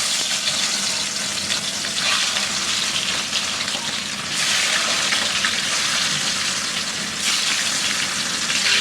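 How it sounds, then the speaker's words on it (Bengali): Rui fish frying in hot oil in a pan at home, a loud, steady crackling sizzle that swells in bursts as it cooks, close up and uninterrupted. "আমি এই রুই মাছটা এখন ভেজে নিব"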